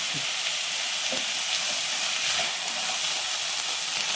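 Chopped onion frying hard in a hot pan with salt and curry leaves, a loud, steady, dense sizzle that holds evenly throughout with no voices.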